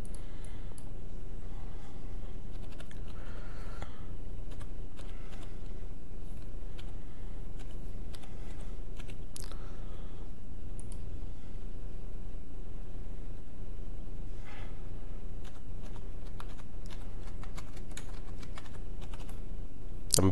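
An Aadhaar number typed on a computer keyboard, a steady, busy patter of close key clicks running throughout over a constant background hum, with no talking.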